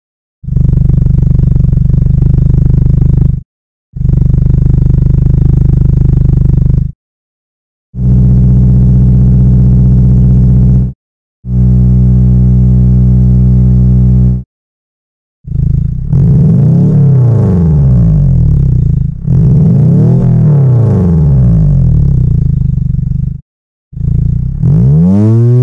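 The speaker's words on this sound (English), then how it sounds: "Which exhaust sound do you prefer?" Car engine exhaust notes from different cylinder layouts, single-cylinder up to V8, heard as a series of separate loud clips with short silent gaps; some hold steady idle drones, others rise and fall with revving.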